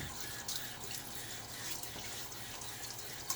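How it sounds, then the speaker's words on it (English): Water splashing at a bathroom sink as a face is wetted before a shave with a Gillette Aristocrat safety razor, a steady close wash of running and splashing water with small drips, no voices. "I am going to get my face a little wet"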